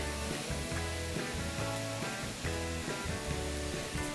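Spinach and egg dish frying in oil in a pan, with a steady hiss and sizzle throughout and brief metallic clinks over it.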